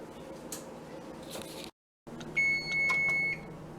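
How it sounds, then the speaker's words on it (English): An oven timer in a kitchen gives a short electronic beep, a sustained high tone lasting about a second after a brief silence, with faint clicks and room noise around it. "The timer has gone off."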